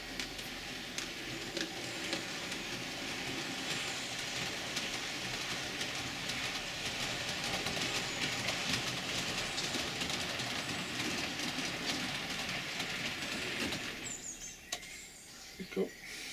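A small model train rattles through a fiddle yard in a continuous rolling clatter, then eases off and goes quieter near the end.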